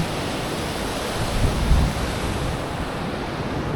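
Ocean waves rumble and wash in a continuous broad roar, with a heavier surge midway and wind buffeting the microphone.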